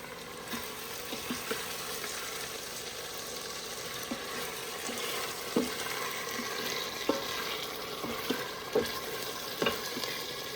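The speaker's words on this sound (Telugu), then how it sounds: "మటన్ అది కూడా మంచిగా ఫ్రై అవుతుంది, పచ్చి వాసన పోతుంది" Spicy mutton frying in an Instant Pot for biryani: a steady sizzle with intermittent stirring scrapes and clinks, close and moderately loud.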